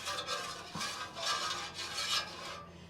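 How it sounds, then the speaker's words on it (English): Onions and vegetables being stir-fried in a pan on a camping trailer trip, with rough scraping and rasping strokes of a utensil across the pan surface, repeated in uneven pulses with a light sizzle underneath. "we're going to just quickly stir fry these"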